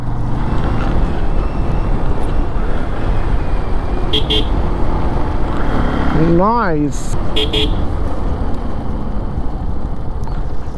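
A vehicle horn sounds on a winding coastal road during a ride from Shriwardhan to Dapoli, a brief wavering honk rising out of steady engine and wind noise, with people talking over it.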